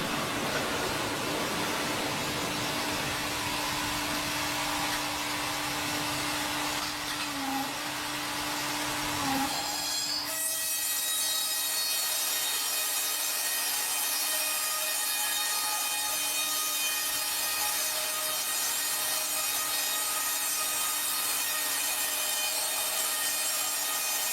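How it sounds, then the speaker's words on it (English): A sawmill bandsaw cutting logs into lumber, a continuous loud rushing, grinding roar that shifts to a brighter, higher whine partway through and keeps going steadily, with no voices. "Sawmills using bandsaw technology can process thousands of board feet per day"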